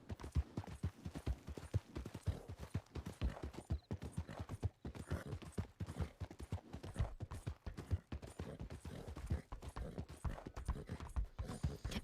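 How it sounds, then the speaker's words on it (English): Horse hooves clip-clopping loudly and close while riding in the role-play game WildRP, a brisk continuous rhythm of sharp hoof strikes with no talking. "Nah, we'll ride by horse then."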